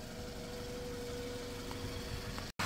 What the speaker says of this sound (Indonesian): dicek AC, kompresornya sepertinya harus diganti kompresor karena ini bunyi